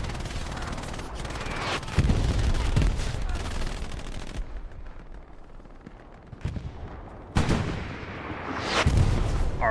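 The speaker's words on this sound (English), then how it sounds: "there's some gamma bombs being thrown," Gammon bombs going off in the World War II shooter Hell Let Loose during a competitive match, a series of heavy booming blasts with rumbling tails amid distant gunfire, loud and close at times, with a voice talking over parts.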